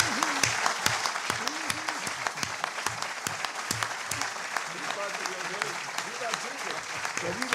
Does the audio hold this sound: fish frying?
no